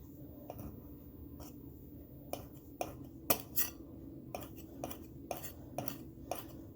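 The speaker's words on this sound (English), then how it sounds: "I'm just going to take a butter knife and pretty much make sure it's all even." A butter knife scrapes and taps through pretzel dough in a quiet kitchen, a series of sharp clicks and short scrapes spread irregularly, fairly close and alone.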